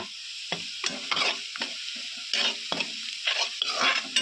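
Golden fried onions with chutney and turmeric being stirred in a pan, heard as a soft background sizzle broken by repeated scraping strokes of a spoon, close up, with no one speaking.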